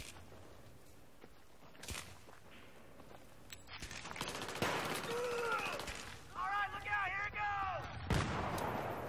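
Grenade explosions and gunfire in the video game Battlefield 3, heard as several heavy thuds and cracking bursts amid game noise, with whining effects and brief voices over the top.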